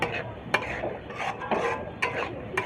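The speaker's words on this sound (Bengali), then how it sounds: "এবার এই মশলা আমি একটু কষিয়ে নেব।" Spice masala sautéing in a pan for capsicum chicken, with a soft sizzle and repeated sharp scrapes of a spoon against the pan at a steady stirring rhythm, close and fairly quiet.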